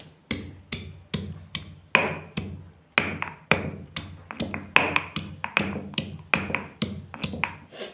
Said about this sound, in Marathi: तोपर्यंत लसूण ठेचून घेत आहे